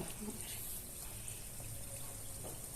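Balushahi dough pieces fry gently in oil over a medium flame, making a soft, continuous bubbling sizzle at low volume.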